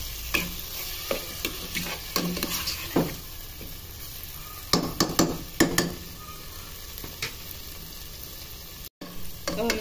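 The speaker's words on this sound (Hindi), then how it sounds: "हमने 2 दरमियाने साइज के टमाटर लिए थे, उसको बारीक चॉप कर लिया था, डालकर हम अब इसको मजीद भूनेंगे।" Minced meat with finely chopped tomatoes frying and being stirred in a pan for a keema aloo dish, a steady low sizzle broken by sharp spoon scrapes and knocks, close and fairly quiet.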